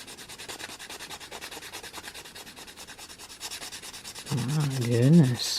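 A sanding sponge rubs back and forth over a craft project in quick, even strokes, a close scratchy rasp, before a voice briefly talks near the end.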